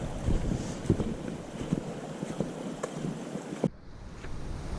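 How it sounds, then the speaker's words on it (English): Fast-moving creek water rushes along a wooded trail on a cold 40-degree day, a steady broadband wash mixed with wind buffeting the microphone, with a sudden drop in level near the end. "I can hear some, I'm not gonna say rapids, but some fast moving water."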